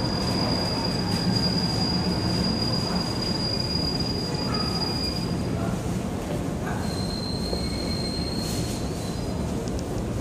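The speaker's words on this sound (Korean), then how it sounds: "시운전 열차예요." A Korail test-run train rolls through Seoul Grand Park station with a loud, steady rumble of wheels on rail. A thin, high wheel squeal runs above it throughout, and no voices are heard.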